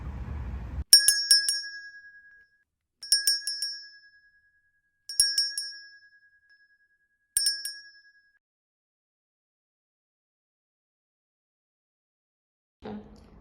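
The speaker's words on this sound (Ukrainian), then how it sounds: "Зараз озветься до нас лунким голосом перший шкільний дзвонок." A handheld first-day school bell rings at a Kharkiv lyceum No. 83 opening ceremony: four bright, jingling bursts spaced about two seconds apart, close and clear over silence, with brief voice sounds at the very end.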